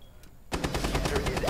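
Rapid automatic gunfire in Rainbow Six Siege, a dense burst of loud shots starting abruptly after a quiet moment and continuing steadily to the end.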